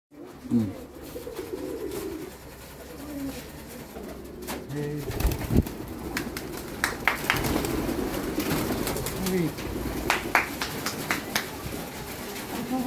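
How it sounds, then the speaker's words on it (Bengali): Pigeons coo in low, repeated rolling calls, close by, with wing flaps and handling noises through the scene and voices talking now and then in the background. "কবুতর দেখছেন?"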